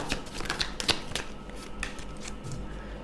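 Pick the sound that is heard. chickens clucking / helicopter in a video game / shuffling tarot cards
shuffling tarot cards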